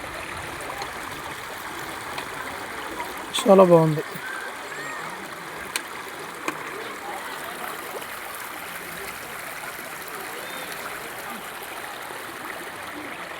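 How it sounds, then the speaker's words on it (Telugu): Steady rushing flow of stream water at Talakona temple throughout, with a person speaking briefly over it. "ఎంత బాగుంది వాటర్ ఎంత బాగా వస్తున్నట్లు"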